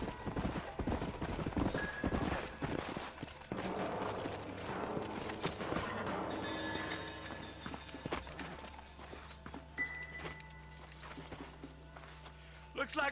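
Horse hooves clip-clopping in the video game Red Dead Redemption, an irregular run of hoof clops under game music and ambience, with a voice speaking at moments.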